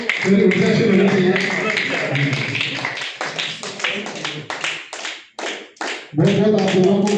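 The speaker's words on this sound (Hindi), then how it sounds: "तालियों में कमी नहीं होनी चाहिए, पूरी ऊर्जा से होनी चाहिए।" Scattered hand claps from an audience at a 2025 poetry (shayari) gathering in Udaipur, with a loud voice speaking over the start and end and a run of separate claps in the middle.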